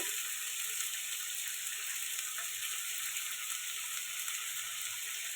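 Potatoes fry in a pan with turmeric and salt for an okra, potato and prawn curry, giving a steady, loud, unbroken sizzle close by with faint stirring.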